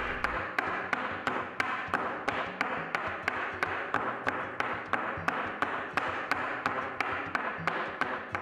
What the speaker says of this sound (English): I gently tapped the plaster over the table so the clay would slump on the form